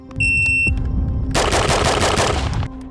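Close, loud sustained burst of rapid automatic fire from a real Jackal submachine gun lasting over a second, preceded by electronic beeps and a low hum, with no talk.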